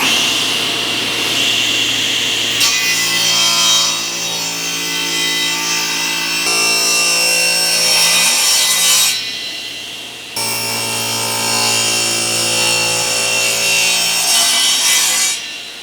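Black walnut wood is sawn in long, continuous strokes that rasp loudly and evenly, with a brief pause before the cutting resumes.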